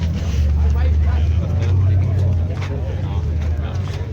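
A V8 turbo engine at a Redhill car meet gives a loud, steady close-up rumble that swells slightly mid-way, with voices nearby.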